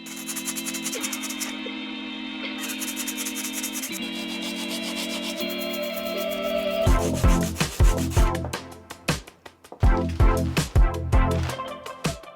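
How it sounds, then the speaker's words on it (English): A wooden dog sofa is sanded by hand. A steady rasping drone gives way to rhythmic back-and-forth scrubbing strokes, close and fairly loud. "it's time to sand this thing down and also paint it."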